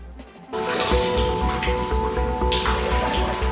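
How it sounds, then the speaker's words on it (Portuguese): Water in an indoor swimming pool surges and sloshes forcefully inside a high-rise building, a dense continuous rush that starts abruptly, with a low rumble and hum underneath. "A água da piscina coberta se movimenta com força."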